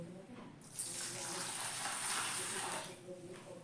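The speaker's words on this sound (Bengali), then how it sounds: "এবার চালটাকে আমি পরিষ্কার জলে 3 থেকে 4 বার ধুয়ে নেব" Everyday rice for cooking is rinsed in clean water in a kitchen, a soft, continuous rush and slosh of running water swirling through the grains, fairly quiet and close.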